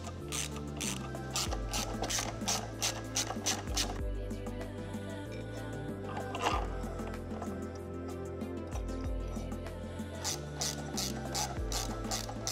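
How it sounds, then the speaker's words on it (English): Hand ratchet clicking rapidly and rhythmically while a bolt on an Aprilia Tuareg 660 motorcycle is loosened, close and clear in repeated bursts with short pauses. "you need to loosen the front bolt and install the skid plate mount underneath that bolt"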